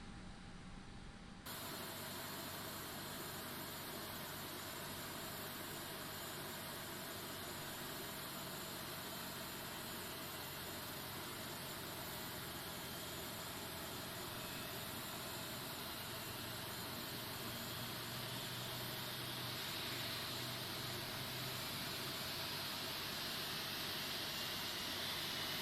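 Airbus A330 engine spooling up in a flight simulator game, a steady broad roaring hum with a faint rising whine that swells slightly toward the end, with no talking.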